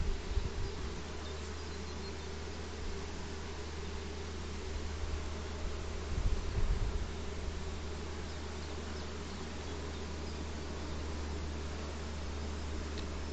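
Bees buzz in a steady, soft, continuous drone close by, with a brief swell partway through and no voices.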